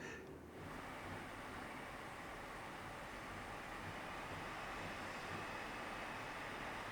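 A steady, quiet whooshing hum from the cooling fan of an ASUS ROG NUC 970 mini PC under load, running continuously without change.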